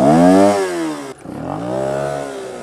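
Turbo diesel motorcycle engine revving close and loud, a sustained rising pitch that cuts off abruptly, then climbs again in a second rev.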